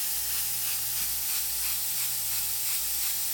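An airbrush sprays paint onto a t-shirt for a lion design in a steady, close hiss that runs unbroken and alone, without pause and with a faint low hum beneath.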